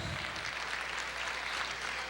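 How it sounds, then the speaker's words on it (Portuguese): Church congregation giving a round of applause during a service, a short, fairly quiet burst of scattered clapping with a soft room wash. "Uma salva de palmas para o nosso Deus."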